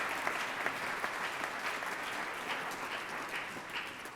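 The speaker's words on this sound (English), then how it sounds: "we can go ahead and give them a round of applause" Round of applause from the audience at a community forum on immigrants revitalizing communities, a steady, moderately loud wash of many hands clapping that continues evenly to the end.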